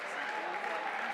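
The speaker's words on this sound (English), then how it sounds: "One more round of applause for the ladies." Audience applause at a climbing competition finals, a brief, moderately quiet wash of many clapping hands, with faint crowd murmur mixed in.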